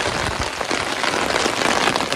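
Dense patter of heavy rain drumming on a taut umbrella canopy overhead, close and continuous, with heavier drops tapping irregularly through the steady hiss.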